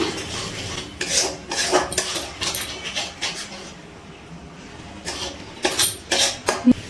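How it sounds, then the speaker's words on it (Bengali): Spices being sautéed and stirred in a pan on a medium gas flame for a restaurant-style mixed veg, heard as rhythmic rasping scrapes of a spatula against the pan with brief pauses, close and fairly loud, no voices. "গ্যাসের ফ্লেমটা মিডিয়ামে রেখে মশলাগুলো একসাথে কষিয়ে নিচ্ছি"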